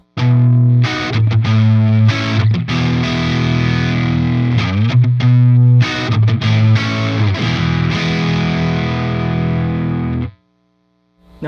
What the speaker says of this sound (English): Here's the noise gate pedal.